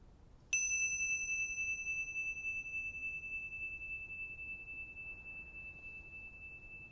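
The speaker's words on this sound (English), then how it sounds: "the bell is just happening in the background" Meditation bell struck once, a bright, pure metallic ding that rings out and slowly decays over several seconds in an otherwise quiet room.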